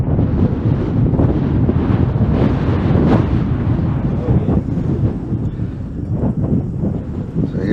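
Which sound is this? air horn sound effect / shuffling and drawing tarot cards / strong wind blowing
strong wind blowing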